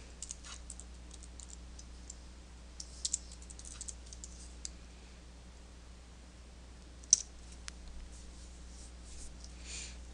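Computer keyboard typing while a search term is entered on a desktop machine, faint scattered clicks and a few sharper keystrokes over a steady low hum, with no talk.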